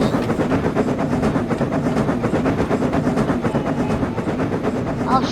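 Steam engine James chugging up Gordon's hill, a loud rapid rhythmic puffing and clacking that continues steadily throughout.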